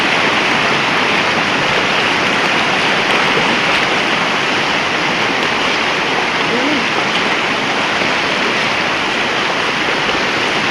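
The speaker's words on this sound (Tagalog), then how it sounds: "Kusog ang agas." Tampakan falls roars with strong flowing water, a loud constant wash of broadband noise that stays steady from start to end, drowning out other sounds.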